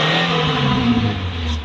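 Engine of a 2007 Suzuki Alto VXR revving hard during an HHO carbon-cleaning treatment: a loud, close, continuous engine roar whose pitch shifts slightly as the revs are held up.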